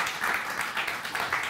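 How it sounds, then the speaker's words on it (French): A small group of adults claps together in an indoor gathering, a short burst of fairly quiet applause with a loosely rhythmic pulse of overlapping hand claps. "Même applaudissement pour tout ça."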